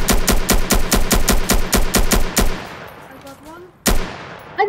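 Automatic gunfire in a Roblox civil war battle game, a fast regular string of loud close shots for over two seconds, then quiet with faint chirping tones before one more sharp shot.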